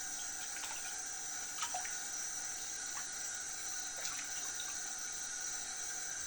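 Tap water running steadily into a sink while paint brushes are washed, a continuous close hiss broken by a few faint clinks and splashes.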